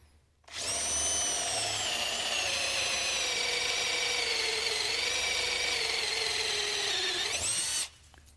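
A cordless drill turning a 1 3/8 bit bores into hard maple, a loud, steady motor whine that starts sharply, holds for about seven seconds and cuts off cleanly, with no talking.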